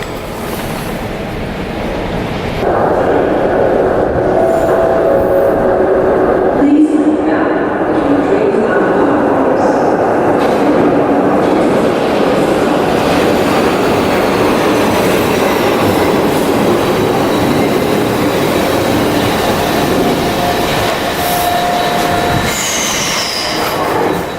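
A Glasgow Subway train rumbles loudly into a station with rattling wheels and high squeals of braking, the noise steady and close.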